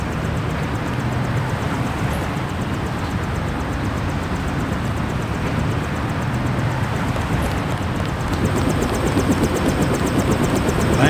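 Helicopter in the video game Deus Ex: a steady, loud rotor and engine drone that holds evenly throughout, swelling slightly near the end, with no talk.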